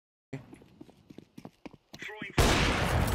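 Gunfire in the video game Counter-Strike 2, exchanged at long range. After scattered quiet clicks and a short voice, a loud, dense burst of shooting suddenly takes over and continues to the end.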